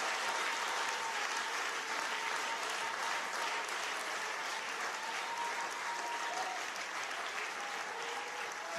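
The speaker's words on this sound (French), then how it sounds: "Oui, soit fait, acclamez bon Dieu ça" A church congregation applauds through a praise service, sustained even clapping from many hands that fills the room, fairly distant and steady without any clear voices.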